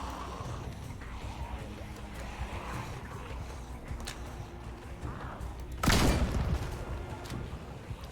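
Shotgun blasts in a raid-style video game: a busy, muffled backdrop of distant gunfire and thumps, then one loud, close, sharp blast near the end that rings out briefly.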